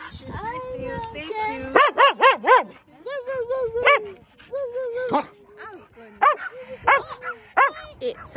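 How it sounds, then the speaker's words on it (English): A dog barks in short, repeated bursts, with yips and whimpering between them, close and fairly loud, in clusters separated by brief pauses. "He's barking"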